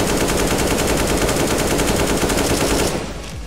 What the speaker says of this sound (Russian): Кто там тут стреляет?